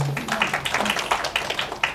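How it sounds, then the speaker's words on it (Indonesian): A wedding congregation claps in church, a short run of brisk, uneven hand claps at moderate distance, with a voice briefly heard beneath. "Tepuk tangan buat Tuhan Yesus."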